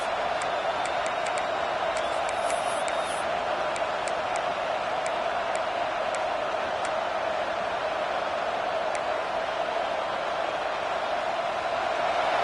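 Steady roar of a football stadium crowd, loud and continuous, forming a broad wash of noise with faint scattered whistles and shouts rising above it.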